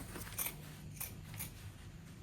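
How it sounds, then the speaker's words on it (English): Scissors snip through fabric while cutting out a summer flare circle dress, three or four quiet, crisp cuts spaced across a faint background hum, close by. "So I'm going to cut this out like this."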